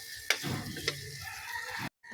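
Browned garlic and onion sizzling in a hot pan, a steady moderate frying hiss with a couple of sharp utensil clicks, no talking.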